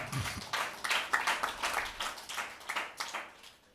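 A church congregation claps together in a rhythmic series of strong, roughly evenly spaced beats, loud and close, with the pace steady throughout.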